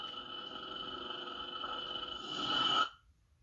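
A Kyberlight V5 lightsaber powering down: a steady electric hum that swells briefly louder and then cuts off abruptly into silence, faint and close.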